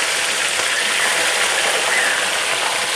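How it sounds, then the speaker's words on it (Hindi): Tomatoes hit hot oil in a pan for beef karahi gosht, giving a loud, dense, continuous sizzle with no pauses. "अब मैं इसमें टमाटर ऐड कर रही हूँ"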